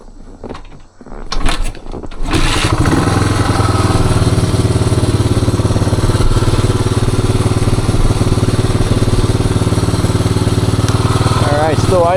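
A 1978 Suzuki DR370 motorcycle engine starts after a few clunks, then settles into a steady, loud idle rumble that continues throughout.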